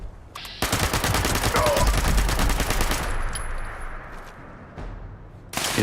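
A spin-up heavy weapon in Fallout 76 fires a loud, sustained rapid-fire stream of shots for several seconds after a brief wind-up, then trails off before another burst starts at the end.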